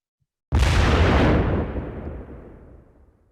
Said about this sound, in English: It's the cannon, Mm-hmm. the the number one instrument.